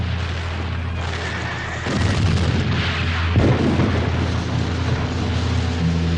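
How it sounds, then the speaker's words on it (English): Heavy artillery covering fire thunders as a loud, continuous rumble of booms and blasts, growing denser partway through, with no voices over it. "while my comrades gave me covering fire"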